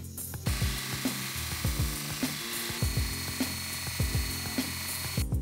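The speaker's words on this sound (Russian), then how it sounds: "Внутри для облегчения делаю отверстие." A lightening hole is drilled into a small titanium spacer for a large folding knife, giving a close series of short, rhythmic grinding bursts repeating about every half second, with no talking.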